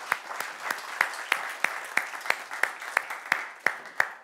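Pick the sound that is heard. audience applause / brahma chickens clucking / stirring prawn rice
audience applause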